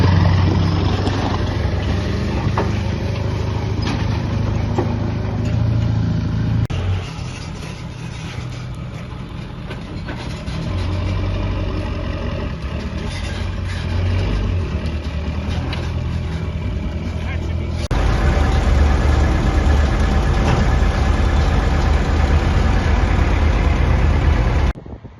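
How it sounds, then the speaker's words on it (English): Three loaders lift a new Kuhn Knight SLC 126 manure spreader off a trailer on a farm, their diesel engines droning and idling loudly and steadily throughout, with the engine note shifting as the machines work. "we had 3 loaders lifting up on the spreader"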